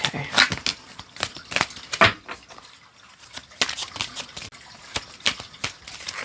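A deck of tarot cards shuffled by hand, giving a run of sharp riffling snaps and soft slaps at an uneven rhythm, close and fairly loud, with no talking.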